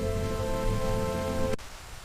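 Steady rain falls outdoors as a continuous dense hiss with a low hum beneath, cutting off abruptly near the end and leaving quieter background noise.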